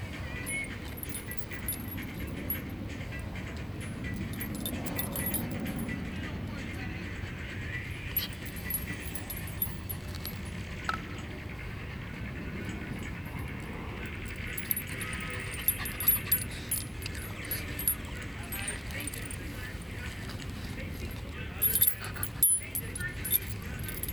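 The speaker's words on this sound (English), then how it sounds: "I'm holding this dog hostage." Dog whimpering and whining softly outdoors, with faint jangling and someone speaking over the thin, intermittent cries.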